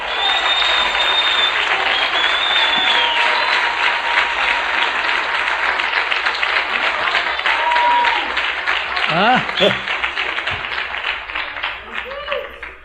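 A church congregation applauds in a long, dense burst of clapping that stays loud and steady, with some voices and shouts mixed in, before thinning slightly toward the end.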